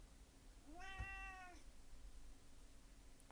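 A hungry house cat gives one clear, drawn-out meow that rises and falls, heard fairly close against a quiet indoor background with a low steady hum.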